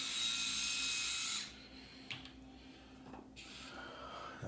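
A Pitbull Gold electric head shaver whines steadily near the scalp for about a second and a half, then cuts off, leaving faint handling rustles and a brief scrape.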